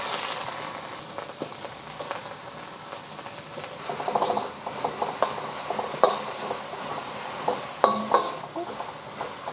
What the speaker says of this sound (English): Adding about 2 tablespoons of vegetable oil. I get my onions in there first.